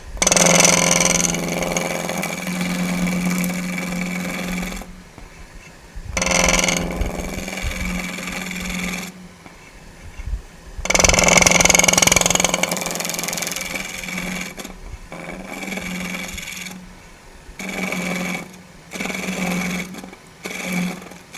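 A skew chisel takes very light cuts on a wood lathe, giving a steady whirring hum in several sustained bursts separated by short quieter pauses.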